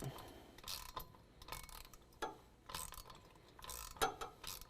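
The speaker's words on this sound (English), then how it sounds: "Now we're going to use a 5/8 socket and wrench to tighten down this bracket" Socket wrench ratcheting as a 5/8 socket tightens a bracket on a 2017 Ford F-250 Super Duty during a lift kit install, several quick clicking bursts with short pauses, close and fairly quiet.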